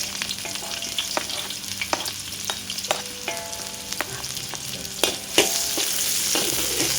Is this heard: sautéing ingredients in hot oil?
yes